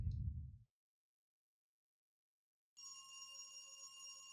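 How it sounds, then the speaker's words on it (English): A telephone ringing in the video game Dread Weight, a steady electronic ring that starts after a brief low thud and a long silence, sounding clear and sustained. "The ringing echoes down the hallway."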